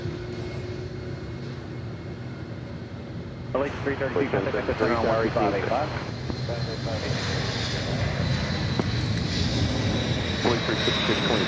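A DHL cargo plane at Nashville airport roars loudly in the distance, its engine noise swelling partway through and holding as a broad steady rush, with people talking over it.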